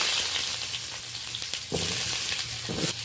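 Potatoes frying in a small amount of oil in a pan make a steady, close sizzle with a few soft scrapes and clinks over about three seconds, with no talking.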